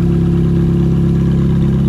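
A Ferrari F430 V8 idles close by, a loud, steady low rumble with an even throb and no revving, alone without voices.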